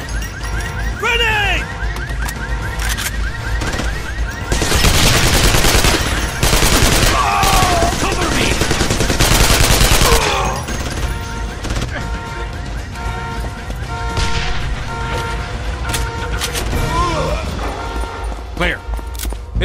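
Heavy automatic gunfire in the 2009 military shooter Code of Honor 3: Desperate Measures, dense bursts surging loud mid-clip over a busy combat backdrop with shouted voice fragments and alarm-like tones.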